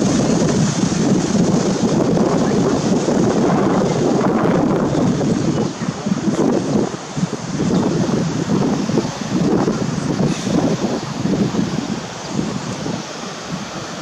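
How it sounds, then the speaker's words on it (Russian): Strong wind blasts across a microphone outdoors near a fountain on a city square, a steady loud roar with gusty surges and rustling throughout, no talking. "Ветрюганище какое."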